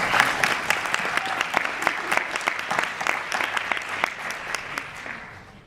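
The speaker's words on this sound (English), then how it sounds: "join me in clapping you" Applause from an audience at an Oxfam event with Desmond Tutu during the UN COP15 climate conference in Copenhagen: many sharp individual claps forming sustained clapping that fades slightly toward the end.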